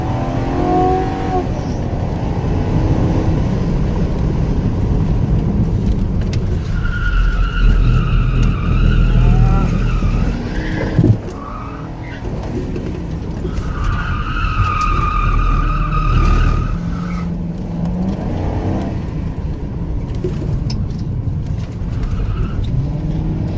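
Tires of a 2019 Ford Mustang GT with the PP1 package squeal loudly in two long, wavering bursts over a steady engine roar, close by, with no talking.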